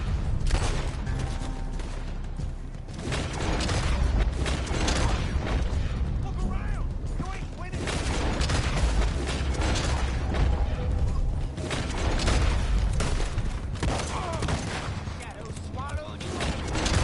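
Gunfire in the Red Dead Online video game comes as dense, loud bursts of shots with mechanical clatter and booms in a nearly continuous barrage. Occasional talk is heard under the shots.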